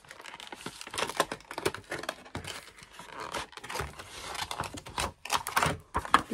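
Yellow plastic packets of Gorjuss goods from a NOZ store haul are torn open close up, with irregular bursts of crinkling and ripping plastic that rise and fall over several seconds.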